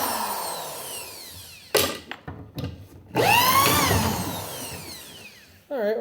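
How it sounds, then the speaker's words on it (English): A power drill runs in loud whining bursts while drilling out a bit, its pitch rising and falling, with short pauses and clunks between the runs, close to the listener. "And we'll drill this one out."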